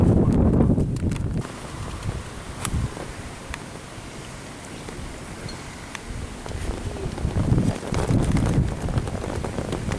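Gusts of wind buffet the microphone in heavy low rumbles, easing for a few seconds before blowing hard again.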